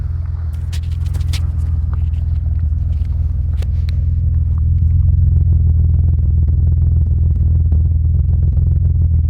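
A car's engine runs steadily with a deep, loud exhaust rumble close by, and a few light clatters are heard early on.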